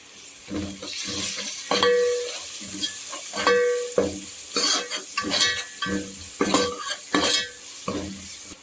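Onions, tomatoes and spices sizzling in oil in a pan for chicken dum biryani, with rhythmic scraping strokes and oily crackle, close and fairly loud, no talking.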